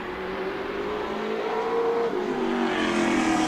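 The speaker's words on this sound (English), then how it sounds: "hard on the throttle down the front stretch" An APC Series race car on a qualifying lap at Flamboro Speedway accelerates hard down the front stretch, its engine note climbing steadily in a loud, continuous roar.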